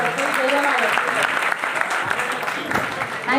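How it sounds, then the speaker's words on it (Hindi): Enthusiastic audience applause at a Mi Lifestyle business program in Ghatkopar, a loud, continuous burst of clapping with cheering voices mixed in. "जरा जोरदार तालियां।"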